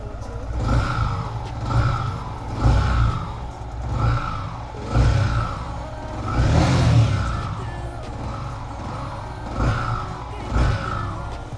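A Yamaha R15 motorcycle with an aftermarket exhaust, just after a cold start, revs repeatedly in short, loud bursts roughly every two seconds over a steady idle, close to the listener.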